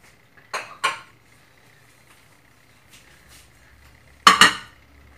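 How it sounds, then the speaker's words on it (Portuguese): Ceramic plates and dishes clatter as they are stacked and put away in a home kitchen, with two quick knocks, a quiet stretch with faint clinks, then a louder pair of clanks near the end. "Aí agora eu vou guardando esse monte de louça"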